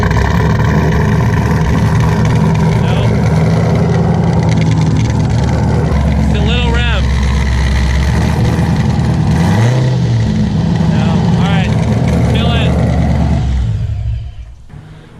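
841hp Corvette engine idling loudly with duck calls fitted in one exhaust tip, a steady low rumble with squawky duck-call chirps breaking through in short bursts, voices talking over it, before the engine cuts off near the end.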